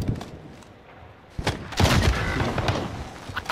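Video game gunfire in Call of Duty, a few sharp shots followed by a denser burst of rapid firing, loud and close, with no talk over it.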